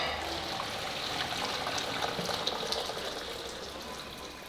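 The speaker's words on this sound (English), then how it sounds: "now I'm draining off the water and putting in hot water from the kettle" Hot water pours from a kettle into a pot in a steady, close splashing stream that fades a little toward the end.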